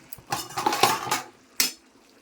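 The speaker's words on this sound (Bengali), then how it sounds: "এখন আমি চিংড়ি মাছগুলো দিয়ে দেবো।" Pre-fried prawns go into a cooking pan with a spoon or spatula scraping and clattering against the metal, a cluster of close clinks and stirring scrapes followed by one sharp knock, with no talking.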